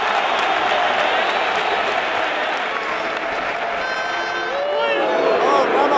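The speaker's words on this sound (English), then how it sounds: "now they're chanting his name" Football crowd in a Madrid stadium chanting Piqué's name during a Spain v Italy World Cup qualifier: a broad, sustained roar of many voices from the stands, steady and loud, with a swelling rise toward the end.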